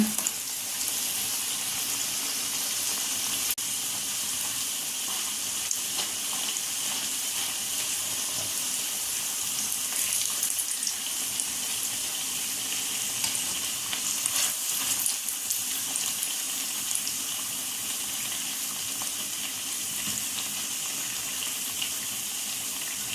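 Madakku snack dough frying in hot oil, a steady, dense hiss of bubbling sizzle running evenly and fairly loud throughout with no talking.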